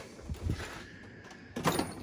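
Top drawer of a tool chest sliding open in a workshop, a faint brief rolling slide with soft knocks near the start and again near the end, quiet overall.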